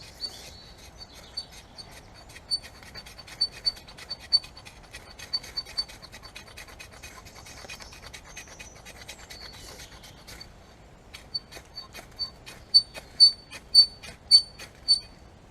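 A kitchen knife scrapes along a fire steel rod in a series of sharp rasping strikes, sparse and quiet at first, then louder, evenly spaced scrapes near the end; no one talks.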